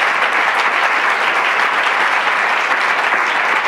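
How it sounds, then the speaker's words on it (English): Lecture-hall audience at an evening talk gives sustained applause, a loud, even roar of many hands clapping without pause or voices. "let's give them a little round of applause"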